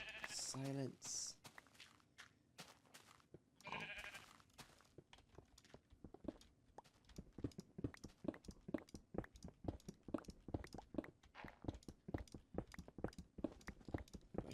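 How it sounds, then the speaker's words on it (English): Two wavering sheep bleats from the video game Minecraft sound early on, then a quick series of sharp clicking block-like taps takes over, with someone talking intermittently. "Silence, sheep."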